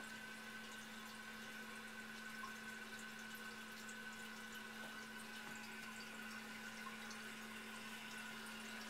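A Kohler Wellworth toilet tank refills with water, a faint, steady hiss and trickle with a constant low hum running evenly throughout, no voices over it.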